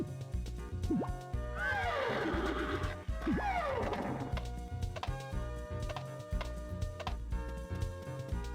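A horse in the video game Harvest Moon Magical Melody gives two loud whinnying neighs in a row over a looping game soundtrack, followed by light clip-clop hoofbeats.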